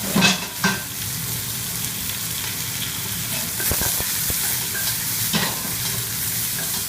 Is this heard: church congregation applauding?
no